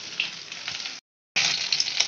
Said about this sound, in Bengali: মাছের মাথাটা বেশ কিছুদিন পড়ে আছে, তাই ভেজে নিচ্ছি